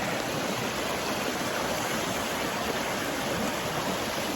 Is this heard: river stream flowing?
yes